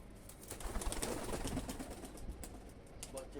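Young pigeons coo softly and continuously at close range, with faint wing flutters mixed into the steady murmur.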